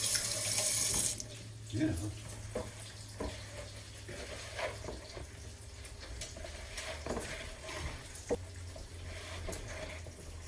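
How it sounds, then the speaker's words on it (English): A kitchen sink tap runs steadily while hands are washed after handling dough, with splashing and small knocks over the flow; the water stops after about a second, then quiet clinks and a brief spoken word follow. "wash my hands a little bit"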